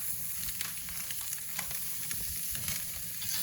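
Onions and ribeye steak sizzle on a flame grill, a steady dense crackling hiss with scattered pops, close and continuous throughout, no talking.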